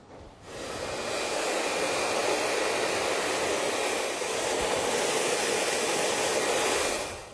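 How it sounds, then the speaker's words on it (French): A hair dryer blows steadily at close range over a clip-in fringe, a loud continuous whooshing hum that starts abruptly and runs without pause until it cuts off. "nous allons prendre le sèche-cheveux juste pour bien mélanger l'ensemble des cheveux."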